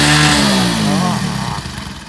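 A motorcycle engine starts and revs loudly up close, a rough rising drone that slowly eases, with a voice faintly mixed in.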